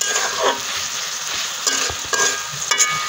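Meat sizzles in a pot while being stirred, with a continuous frying hiss and several sharp scrapes and taps of a spoon against metal.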